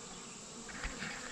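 Honey bees buzz in a steady, droning hum nearby around hive supers, a brief swarm-like sound with slight fluctuations and no voices.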